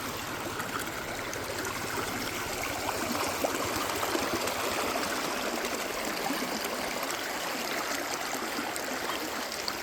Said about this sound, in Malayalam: ഇവിടെ നല്ല ഫോഴ്സിൽ പോണ വെള്ളം.